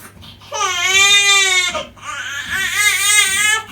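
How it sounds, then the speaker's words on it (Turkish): A newborn, a couple of weeks old after a caesarean birth, gives two long wavering cries in close succession, loud and near, with a brief breath between them. "Artık böyle tatlı tatlı ağlamalara başladı."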